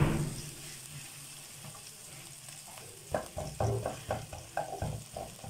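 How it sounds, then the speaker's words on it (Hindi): Garlic frying in a pan over a low flame, a quiet steady sizzle with bursts of stirring and scraping toward the end, no voices. "अब जो लहसुन डाला है इसको मैं फ्राई कर रही हूँ।"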